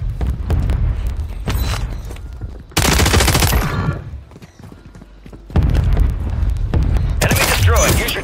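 Automatic gunfire in a Call of Duty Modern Warfare 3 ranked multiplayer match comes in loud, dense bursts, with a lull in the middle before heavy firing resumes, under game voice callouts.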